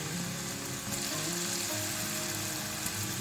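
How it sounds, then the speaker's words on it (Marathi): Rice flour kurkure sticks dropped into hot oil sizzle and fry with a steady, dense crackling hiss, close and continuous, with no voices. "आता मी इथे तेल गरम करून घेतलेलं आहे, यामध्ये आपल्याला हे स्टिक टाकून घ्यायचे आहेत"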